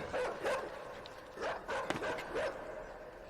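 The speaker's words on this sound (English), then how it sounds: "Oh, dog's out." A dog in the dark side-scrolling game Inside barks a few times in short bursts, about three or four sharp yaps spread over a few seconds and heard at mid distance over a quiet, airy game ambience.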